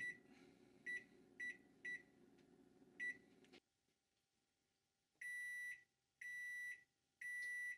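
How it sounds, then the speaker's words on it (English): A kitchen oven timer beeps sharply as it is set, with short repeated button beeps over a low hum, then quiet, then three longer tones. "Set the timer for 20 minutes."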